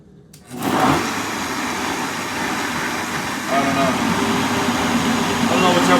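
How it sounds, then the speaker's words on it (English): A broken blender runs with a steady whirring motor drone that starts suddenly and holds, growing slightly louder partway through, and no one speaks over it. "I don't know what's up with this blender."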